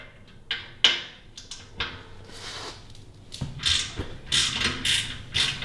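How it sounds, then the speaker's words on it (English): An Allen key works loose the exhaust pipe bolts on a Harley-Davidson Fat Bob 114, with faint close creaks, ratcheting clicks and small metallic taps coming in short bursts and no talking. "It's going to go in, and we're just gonna loosen these bad boys up from down here."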